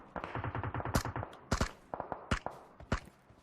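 Gunfire in the PUBG Mobile video game on the Vikendi map, a rapid automatic burst followed by scattered sharp single shots, loud and close.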